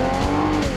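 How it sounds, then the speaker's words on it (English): A truck engine revs in one brief, loud, steady burst with a sustained droning tone. "Rev up your engine."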